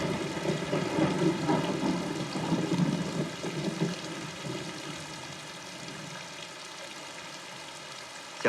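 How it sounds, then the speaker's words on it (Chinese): Heavy rain pours down in a dense, steady hiss with low rumbling undertones, loud at first and easing slightly toward the end, no voices present. "下这么大的雨"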